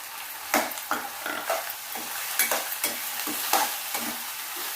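Cauliflower stirred and fried in a pan, a close crackling sizzle with repeated spoon scrapes and taps against the metal at an uneven rhythm, with no one talking.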